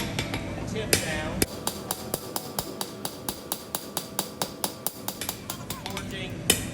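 A blacksmith's hammer forging the tip of a knife blade on an anvil, a steady run of about twenty loud ringing metallic strikes at a brisk even rhythm, close and clear above faint background murmur.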